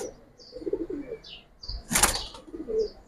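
Pigeons at a pigeon market flap their wings in a short close burst, surrounded by soft cooing and chirps, with no voices.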